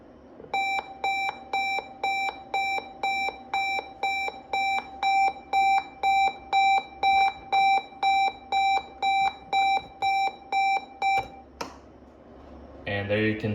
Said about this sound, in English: Well, now let's see what the buzzer sounds like.